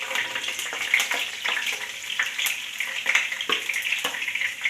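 Ginger frying in well-heated oil for pepper chicken: a continuous close hiss and crackle of sizzling with small irregular pops, moderately loud and steady throughout.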